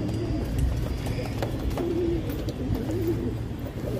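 Pigeons in a Madrasi pigeon collection coo softly and repeatedly, the low rolling calls close by over a faint background hum, with no talk.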